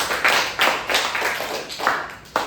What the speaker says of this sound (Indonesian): beri tepuk tangannya untuk semuanya